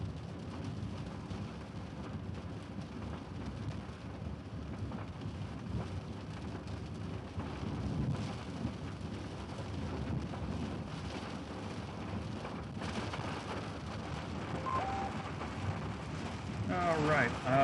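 Torrential rain pours steadily in a Texas storm, a dense continuous wash with low rumbling that could be distant thunder and some wind buffeting on the microphone, and no clear voices.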